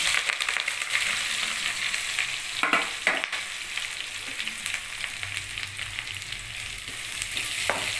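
Onions, tomato, green chillies and curry leaves frying in a pan, a bright steady sizzle with a few sharp stirring scrapes and taps, close and fairly loud with no talk.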